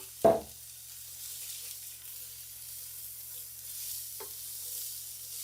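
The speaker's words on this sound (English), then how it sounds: "We're going to cook them down until they're kind of translucent." Onions and jalapeños cooking in olive oil in a small skillet set to about 300, a faint low steady sizzle under two sharp clinks of a utensil, one at the start and another near the end.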